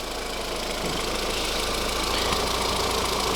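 The 1.6 AZD engine of a VW Golf IV runs at a steady idle, a constant close mechanical drone with a faint knocking texture and no speech.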